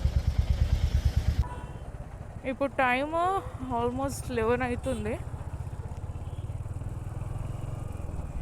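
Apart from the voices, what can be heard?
motorcycle riding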